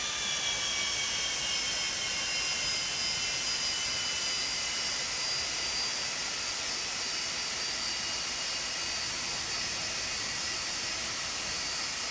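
Jet engines of a Boeing 747-200 after landing in the X-Plane 12 video game roar in a steady, loud, high-pitched whine and rush with tonal whistles, continuous and without talk.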